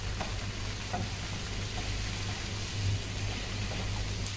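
Pre-boiled pagga pieces fry in a pan with sizzling and faint stirring, a steady close hiss running throughout with no voices.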